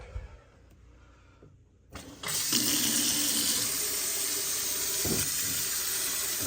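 A Kohler kitchen faucet is switched on and water rushes out at full pressure, a loud, steady hiss that starts suddenly after a quiet moment and continues to the end.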